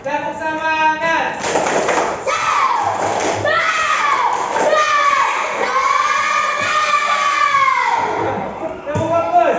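Children chant together in a classroom, loud and close, with rhythmic hand clapping mixed into their voices and a teacher leading between rounds.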